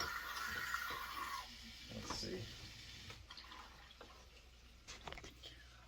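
An aquarium gravel cleaner, tilted to draw out the last water, gives a faint gurgling, sloshing trickle that thins toward the end, with a brief spoken remark near the start.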